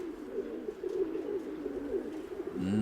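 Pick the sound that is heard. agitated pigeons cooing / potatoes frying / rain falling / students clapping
agitated pigeons cooing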